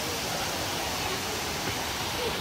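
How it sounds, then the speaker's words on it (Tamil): Water pours steadily over a waterfall in Kerala, producing a continuous close rushing roar. It stays even in level for the whole stretch, with no clear voices above it. "தண்ணி சத்தம். உங்களுக்கும் கேட்குன்னு நம்புகிறேன்."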